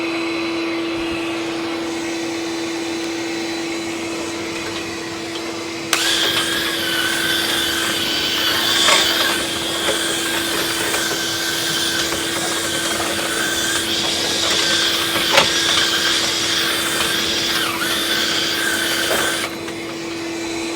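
A vacuum cleaner runs during a chimney sweep and inspection, a steady loud whine with a constant low hum. It surges louder partway through, with scraping and knocking over it, then drops back near the end.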